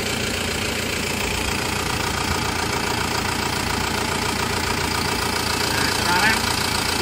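An Isuzu Panther New Hi Grade diesel engine idles steadily and close by, a constant rough, knocking hum that stays even throughout with no gaps.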